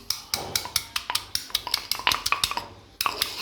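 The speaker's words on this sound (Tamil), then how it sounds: "அதை போட்டு நல்லா மாங்குன்னு இடிக்கவும்" A large piece of soft Spanish ginger pounded for tea with a quick, steady run of sharp, close knocks. There is a brief pause near the end before the pounding resumes.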